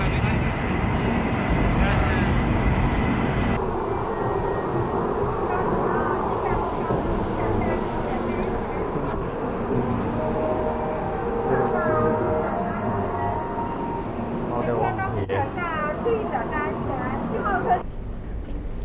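A high-speed train rumbles at a station in Suzhou, a continuous broad roar that lasts throughout with station bustle and voices mixed in.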